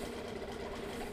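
A Mariner 4hp two-stroke outboard, its overheating fixed, idles in a water bucket with a steady, even, low mechanical hum and rattle that holds at a constant level throughout.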